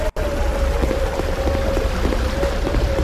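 Continuous rushing, splashing water noise as a character moves through water in an indie horror video game, loud and steady after a brief dropout at the start.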